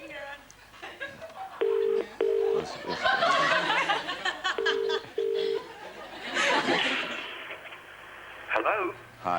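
Telephone keypad tones sound in short steady beeps, four distinct dialing tones as a number is entered to ring a lost phone, heard amid lively talk and laughter in a studio setting.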